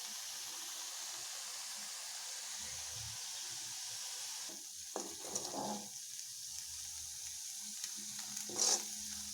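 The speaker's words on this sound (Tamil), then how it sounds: "இந்தமாரி கொதிக்கணும்." Herbal cattle medicine boiling in a pan, with soft steady bubbling and sizzling, a faint continuous simmer with a few brief louder pops and stirring sounds near the end.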